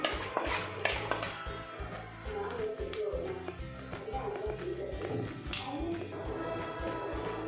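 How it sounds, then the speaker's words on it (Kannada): Chana dal and urad dal frying in hot oil in a pan, heard mostly as clattering metal pan and utensil knocks with light stirring, a faint sizzle and some background voice. "ಇದನ್ನು ಸ್ವಲ್ಪ ಕಡಲೆಬೇಳೆ, ಉದ್ದಿನಬೇಳೆ ಸ್ವಲ್ಪ, ಇದನ್ನು ಫ್ರೈ ಮಾಡ್ಕೋಬೇಕು."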